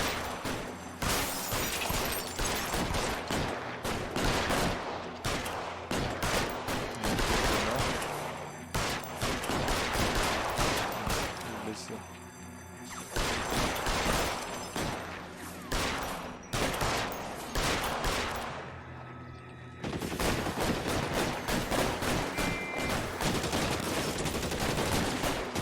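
Thompson submachine gun and pump shotgun fire in the 1940s crime game L.A. Noire: sustained loud volleys of rapid automatic bursts mixed with heavy single blasts, broken by a couple of brief pauses, with no talk.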